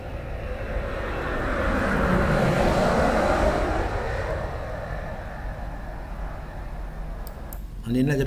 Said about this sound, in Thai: อันนี้น่าจะเป็นเครื่องบินนะครับ